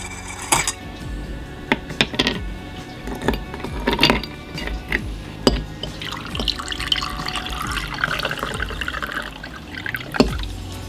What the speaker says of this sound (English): So I'm going to give it a mix